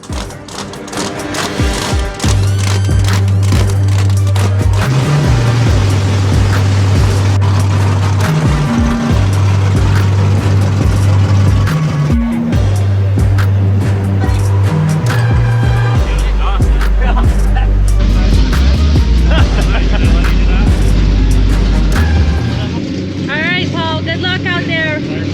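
A 1,000-horsepower Ultra4 4400-class off-road race car with independent front and rear suspension and rear steer revs hard during qualifying at a Lake Havasu event, its engine pitch climbing and dropping in repeated loud bursts, with a voice talking over it.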